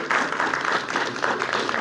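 A brief, dense burst of audience applause fills a university hall at a classical music event in Patiala. It stays steady and moderately loud throughout.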